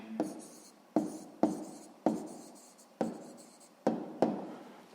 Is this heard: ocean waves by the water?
no